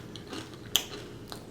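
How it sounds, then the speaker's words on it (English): A single sharp crunch from a bite of crispy orange chicken, brief and close, with faint quieter chewing around it. "You hear that crunch?"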